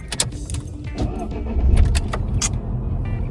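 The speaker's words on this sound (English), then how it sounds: "I'll try if I could start the car." A car engine cranks and catches after the vehicle has been sitting with a weak battery, a low rumble rising near the middle and then settling into a steady idle, with sharp clicks and key rattles around it.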